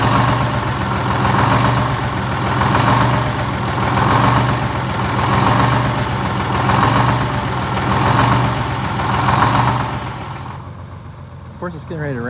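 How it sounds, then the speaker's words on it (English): A worn Detroit Diesel 6-71 engine in a vintage GM 4104 bus idles loudly with a rough, rhythmic pulsing drone that swells and dips regularly, then quiets near the end. "That's a pretty tired engine."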